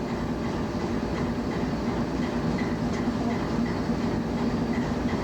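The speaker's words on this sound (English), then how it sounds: "I can hear the brake shoes." A heavy CP Rail coal train rolling with its brake shoes applied, giving a continuous loud grinding rumble with a faint steady tonal drone, heard from the cab without talk.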